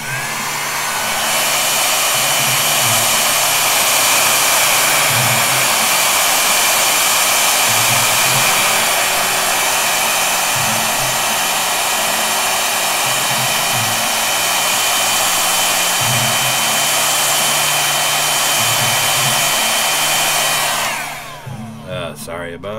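A heat tool blows hot air to set ink on a hand-drawn textile. It gives a loud, steady, close roar for about twenty seconds, then cuts off.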